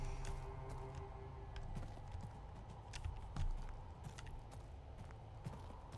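A horse in the video game The Seance of Blake Manor shifts and steps with soft irregular hoof clops and thuds, faint over a low humming ambient backdrop.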